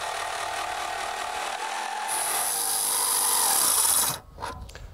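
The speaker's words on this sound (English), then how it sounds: "with a Saber saw, we'll cut it out as carefully as possible" A saber saw cutting wood whines steadily, its pitch rising as the blade bites in, then it stops abruptly near the end.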